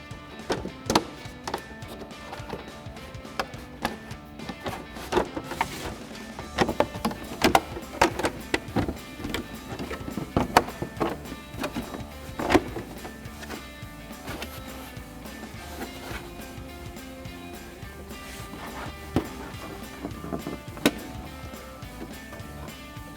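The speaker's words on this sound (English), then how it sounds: "and pull our fender liner out" Plastic fender liner on a Jeep Wrangler JL being worked loose and pulled out by hand: a close series of irregular plastic clunks, snaps and scrapes over about twenty seconds, with no one talking.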